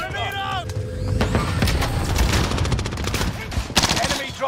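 Heavy automatic gunfire in a shooter video game, with continuous rapid bursts and booming shots close by, mixed with game effects and a sharp louder volley near the end.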